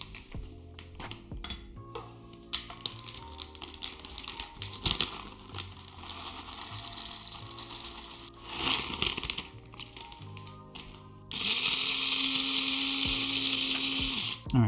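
Coffee beans are ground in an electric spice grinder to a medium-coarse grind, a loud, even buzzing whir near the end that follows softer clattering and handling noises.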